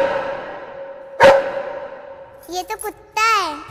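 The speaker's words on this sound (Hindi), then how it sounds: "ये तो कुत्ता है।" In a comedy action film scene, a dog barks: one loud bark, then a short burst of yelps and a drawn-out whine near the end, with voices mixed in.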